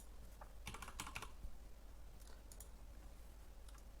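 Computer keyboard keys tap in quick bursts and short clusters while a password is entered, light, close clicks over quiet room tone.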